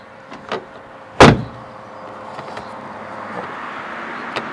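A Renault Zoe's rear door is opened by its small handle, giving one loud close-up clunk of the latch, with faint scuffs before it and quiet cabin ambience after.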